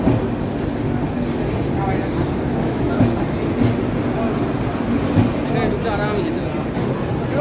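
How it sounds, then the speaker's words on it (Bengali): A train pulls into a station near Kolkata, a steady loud rumble of the carriages with faint clatter throughout, while voices talk over it. "ঢুকে গেছে ট্রেন"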